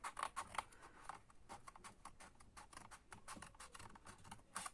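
Quick, light snipping of small scissors trimming paper for a handmade card, a fast run of crisp close cuts, soft and without talk.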